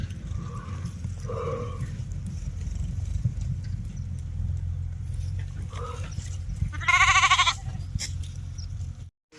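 A flock of sheep bleats on and off over a steady low rumble and shuffling hooves, with one loud, close bleat near the end.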